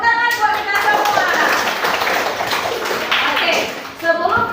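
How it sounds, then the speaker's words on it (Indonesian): A classroom of children clapping together, a loud burst of hand claps close by with young voices chattering over it. "Tepuk tangan buat kita semua."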